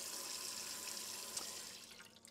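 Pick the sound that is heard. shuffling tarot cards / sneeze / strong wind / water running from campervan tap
water running from campervan tap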